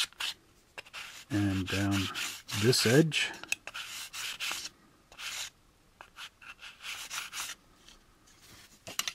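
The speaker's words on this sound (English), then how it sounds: "we just take our fine sandpaper, we'll do a little cross sanding here" Fine sandpaper is cross-sanded over a plastic part from an AMT U.S.S. Enterprise model kit 6676, making close, short rasping strokes in bursts. Someone talks between and over the strokes.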